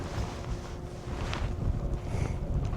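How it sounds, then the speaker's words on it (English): An 8 to 10 knot headwind buffets a one-tonne Com-Pac Eclipse sailboat under an ePropulsion eLite long-shaft electric outboard, giving a constant loud broadband rush of wind over the microphone with water noise beneath, no speech. "there's a bit of a headwind coming now"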